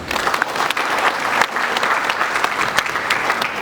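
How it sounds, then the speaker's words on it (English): Sustained applause from a large audience at a church service, dense and steady clapping filling the space for several seconds without a break. "Huge round of applause, please."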